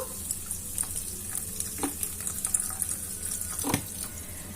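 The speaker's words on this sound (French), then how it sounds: "je vais rajouter un petit peu d'eau" A little water poured into a pan of Moroccan-style fava beans as they cook, a soft splashing trickle over low sizzling, with a few brief clinks and stirring sounds and no talking.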